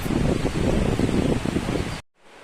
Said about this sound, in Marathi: वारा पण